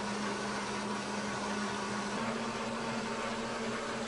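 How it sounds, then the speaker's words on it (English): An M2 DTG printer lays down a white underbase on a dark shirt, producing a steady, loud mechanical whir and hum with a constant tone and no talk. "So what it's going to do now is to print our underbase."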